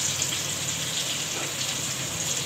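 Pointed gourd (potol) frying in a pan, a steady close hiss of sizzling oil with no break and no voices.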